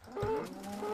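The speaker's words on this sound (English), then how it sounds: "Kill this cow." A cow in the video game Minecraft gives a short, low moo with a tonal, slightly wavering pitch, heard close and clear with no talking over it.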